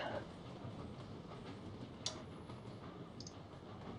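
Trains in the railway video game Sid Meier's Railroads roll along with a faint, steady clatter and occasional sharp clicks, quiet and without speech.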